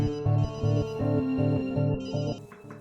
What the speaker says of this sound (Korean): 집주인의 휴대폰에 전화를 한 것이었죠